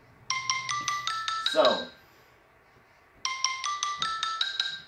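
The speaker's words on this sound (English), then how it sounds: "right now we have a phone call coming in." A phone ringtone from an incoming call during a live news broadcast plays two bursts of a repeating electronic melody, separated by a pause, with a brief voice speaking between them.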